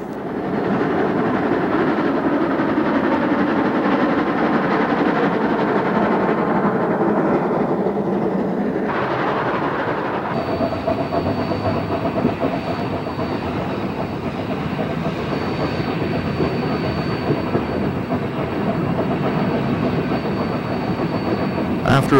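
An O gauge model train runs along a layout with a continuous rolling rumble and clatter of wheels on track. The sound stays steady and close, shifting slightly partway through, while a narrator speaks over it.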